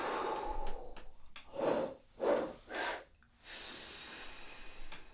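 Close, airy inhalations in three stacked parts, low, middle and a quick top-up sip, for horn breathing practice, each a short gasp-like pull, then a sustained breathy exhale, with no talking.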